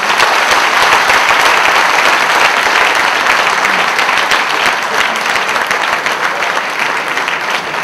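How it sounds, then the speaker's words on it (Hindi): Loud, sustained applause fills a hall at a Hindi humour poetry gathering at IIT Bombay, honouring the poet Hari Joshi; a continuous, dense roar of many hands clapping with no talking. "सबसे पहले उनके लिए एक सम्मान में जोरदार तालियां बजा दें"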